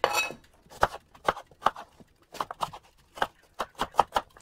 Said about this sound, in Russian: и нарезаю вот на такие некрупные кубики